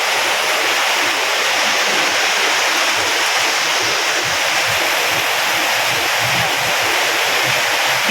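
Steady, dense hiss of heavy rain falling continuously, loud and close, with no pauses and no voices.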